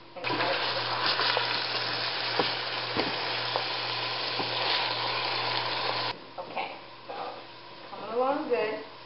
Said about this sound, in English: you're going to remove the Italian sausage from the casing and add it to the pot